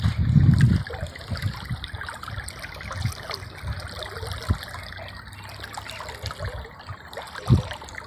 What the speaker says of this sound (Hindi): अभी दोपहर का टाइम है, तो ये देखें अभी खाला बह रहा है।